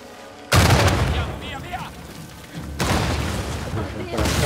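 Explosions in the video game Uncharted 4: three loud, booming blasts hit suddenly, each leaving a rumbling tail that fades before the next one strikes.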